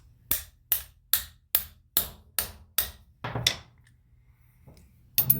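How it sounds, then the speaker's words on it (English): A hammer taps an O-ring-fitted part onto the shutterstat of a 5-ton M939 series military truck, giving eight sharp, evenly spaced metallic knocks, close and clear, then a brief scrape and a final pair of hits. "So now we're going to do our same trick with the hammer."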